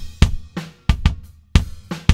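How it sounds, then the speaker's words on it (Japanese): A bass drum recorded through a microphone placed inside the shell, played in an uneven pattern of punchy, close, dry thumps with tight low-end decay. "これがキックインの音。"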